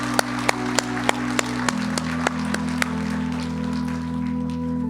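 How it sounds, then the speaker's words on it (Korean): At a church retirement thanksgiving service, the congregation claps for retiring elders, a thin patter of applause beneath a steady organ-like hum, with a few sharp, evenly spaced clicks early on. "다시 한번 우리 그 은퇴하시는 분들에게 감사의 박수를 한번."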